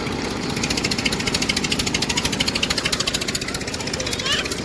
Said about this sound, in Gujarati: જો અમારા જો ટ્રેક્ટર લઈને જાય છે